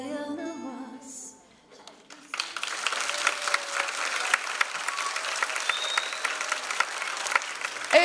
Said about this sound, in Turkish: daha daha coşkulu alkışlar bekliyoruz bu muhteşem ekibe.